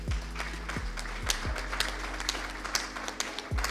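An audience in a hall applauds schoolchildren at a children's event, steady scattered clapping with sharp individual claps standing out, fairly close and moderately loud throughout.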